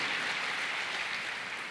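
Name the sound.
congregation applauding in church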